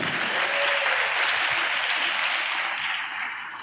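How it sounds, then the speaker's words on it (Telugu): An audience at a church sermon applauds. The clapping is dense, steady and sustained, then tapers slightly at the end. "చప్పట్లు కొట్టడం బాగానే ఉంది"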